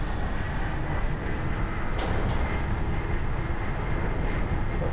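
A tram ride in the video game Doom 3: Resurrection of Evil, a steady loud mechanical rumble and hum that carries on throughout, with faint clanks and no talk.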